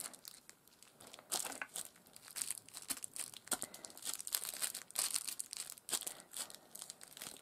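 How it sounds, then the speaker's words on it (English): Crinkled plastic is crumpled and pressed close by, producing a continuous, uneven crackling with fine irregular rustles and small crunches throughout. "some crinkled up plastic"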